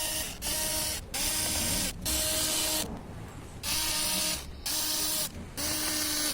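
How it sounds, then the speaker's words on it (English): Four bursts of high whirring from an electric screwdriver backing out the back cover screws of a Dell Vostro 14-5459 laptop, each lasting about a second with short pauses between, close and fairly quiet. "Turn the screws anti-clockwise to remove."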